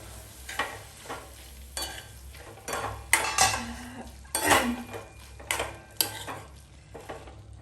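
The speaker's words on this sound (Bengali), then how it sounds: "চিকেনটা দিয়ে এবার একটু নেড়েচেড়ে ঢাকা দিয়ে দিচ্ছি।" Chicken is stirred in a metal pan with a utensil that scrapes and clatters against the sides. A soft sizzle runs underneath, and a few sharper metallic knocks come as the lid goes on. No one speaks.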